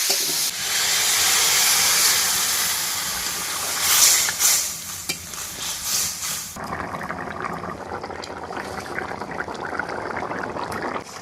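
Fish curry boils in a pot over a village kitchen fire in the Sundarbans, giving a loud, steady hissing bubble that eases into a softer, lower simmer with faint crackles partway through.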